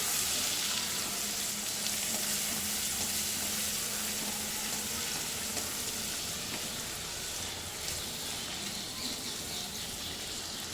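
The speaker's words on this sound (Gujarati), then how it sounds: "એક નંગ ટામેટું લીધું છે મોટું, બરાબર સોફ્ટ થાય ત્યાં સુધી આપણે શેકી લઈશું" A single large tomato roasts in a pan until soft, giving off a constant low sizzle and hiss that carries on evenly and fairly close, with no voices over it.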